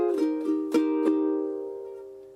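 Ukulele strumming the opening two chords of a song: four crisp strokes, the second chord left ringing and slowly fading, close and alone.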